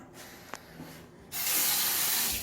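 After a quiet moment, tap water suddenly gushes out in a loud, steady hissing rush that continues to the end, in a renovated apartment bathroom.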